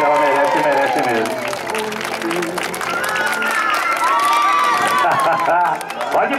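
Audience clapping and cheering at a mother's birthday tribute in São Paulo's north zone, a dense, steady wash of applause with shouts and voices mixed in throughout.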